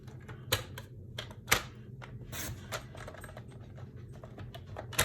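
Paper trimmed to size on a paper cutter or trimmer while making a card project from a single 12x12 sheet: sharp, clicky cuts and slides in short irregular bursts, close and fairly quiet, with no talking.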